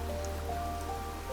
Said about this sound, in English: it's the time of rains